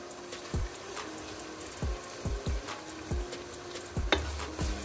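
Masala paste for a chicken and potato curry is stirred and fried in a pan, a steady sizzle broken by about ten short scraping thumps of the spoon at an uneven pace, close by with no voices.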